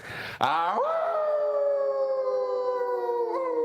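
A man imitates a wolf howl with his voice, one loud sustained howl that sweeps up sharply and then holds a long, slowly falling tone for about three seconds, close and alone.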